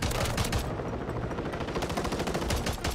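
A Glock pistol fires in the Call of Duty video game on Rebirth Island, with rapid, close shots cracking in quick bursts over a busy background of distant gunfire.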